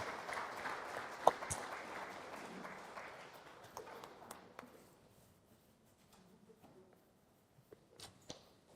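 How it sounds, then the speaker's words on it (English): Audience applause at a conference on data technology and governance, moderately loud clapping with a few sharp individual claps that thins out and tapers into sparse, faint claps and room noise. "let's give them a big round of applause"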